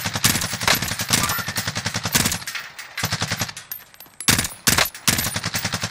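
Rapid automatic gunfire from Call of Duty Warzone (Cold War era, M16 in play), dense bursts of shots with brief pauses, loud and close, firing resuming after short gaps.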